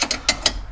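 A ratchet wrench turning an engine mount bolt on a Porsche Cayenne: several quick, close metallic clicking bursts in a short, uneven rhythm.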